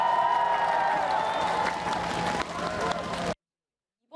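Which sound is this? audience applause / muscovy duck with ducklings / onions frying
audience applause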